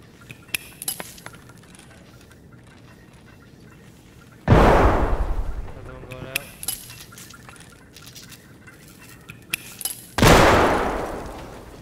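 Two loud grenade blasts in a video game crash out several seconds apart, each a sharp boom that fades into a long rumble, between faint clinks and clicks.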